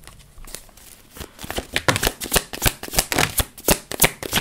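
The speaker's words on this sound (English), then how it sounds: "Also get some tarot cards." Tarot cards shuffled by hand, close and clear, beginning with soft riffling that builds into a rapid series of crisp card slaps and flutters, with no talk.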